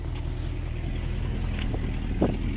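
A 1972 Plymouth Fury car engine with a leaky exhaust runs throughout, a steady low rumble with a rough, sputtering rasp in the low end and a brief louder puff near the end.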